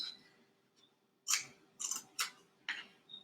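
Scissors snip several times close by, sharp crisp cuts at an uneven pace in an otherwise quiet room.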